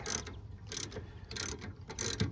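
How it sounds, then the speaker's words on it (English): A thin 19/32 wrench ratcheting a bolt loose on a 1993 Mercedes 190, a rhythmic series of close metallic clicks in four or five bursts with short pauses between. "19/32 thin wrench seems to do it"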